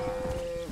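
A cow in a herd lets out one short, low moo, close and moderately loud, in a Western video game setting.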